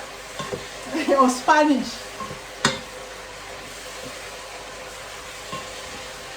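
Chicken and peppers frying with smoked paprika sizzle softly in a pan, with a few stirring scrapes and a brief utensil clack, as a voice speaks briefly over the cooking.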